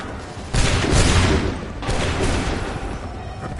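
Volley of musket fire in Assassin's Creed 3, a loud broad burst of massed shots erupting together, followed by a second wave and sustained rumbling echo, with no talk over it.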